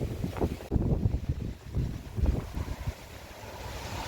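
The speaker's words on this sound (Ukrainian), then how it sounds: "Ну от, бачите, такі шторми бувають." Strong gusty wind from a storm in the Netherlands buffets the microphone in loud, uneven rushes, roaring continuously with rumbling low-end bursts.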